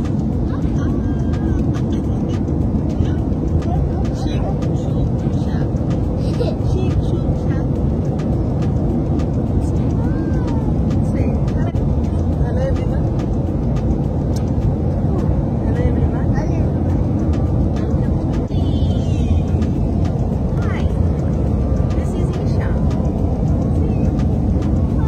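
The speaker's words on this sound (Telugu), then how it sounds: "సో ఇప్పుడైతే మేము LA reach అవ్వాము and flight land అవుతుంది." Steady, loud low-frequency roar of a passenger airliner cabin as the flight lands in Los Angeles, a continuous engine and airflow drone with faint rustling and indistinct murmurs on top.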